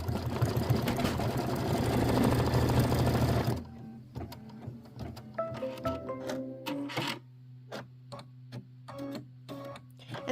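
A sewing machine runs continuously as it stitches quilt fabric, then stops, leaving small clicks and handling noises.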